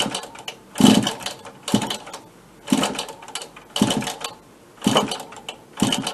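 A small engine on an AV89 machine, not original, is cranked repeatedly by hand: about six bursts of mechanical chugging, each lasting about half a second, with brief quiet gaps between them.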